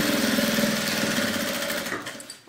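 A sewing machine runs a quick topstitch seam over fabric scraps, its fast rhythmic needle chatter loud and close before slowing and stopping.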